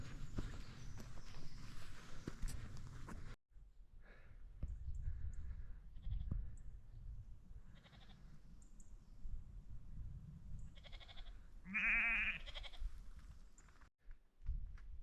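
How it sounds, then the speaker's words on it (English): Sheep bleat on a Welsh hillside in the Rhandirmwyn and Llyn Brianne area, a few distant calls and one clearer nearby bleat, amid quiet outdoor ambience and footsteps. "Yes, these sheep are keeping me company while I'm still climbing."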